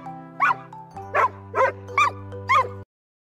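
A dog gives five short, evenly spaced yips or barks, close and clear over a soft sustained musical tone, then stops abruptly.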